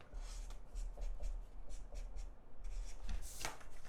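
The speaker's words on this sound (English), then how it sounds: "I'm going to write where I think Phil's going to go" A pen scratches out a short note on a piece of paper in quick, soft, close strokes, with no one talking.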